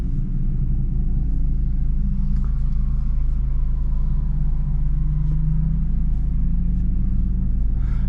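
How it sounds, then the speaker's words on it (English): A Honda Civic Type R FL5 cruising, its exhaust giving a steady low rumble and drone that stays loud and close throughout, with no voices over it. "I think that exhaust sounds pretty good"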